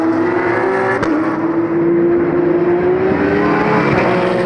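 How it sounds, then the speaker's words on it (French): Audi R8 LMS GT4 race cars at speed on the Magny-Cours circuit, a loud sustained engine drone holding a steady pitch with a slight rise, continuous and close, no voices. "Les 2 Audi R8 LMS GT4 du team Saint-Éloque avec Olivier Estève à la poursuite de Roux Meyouas"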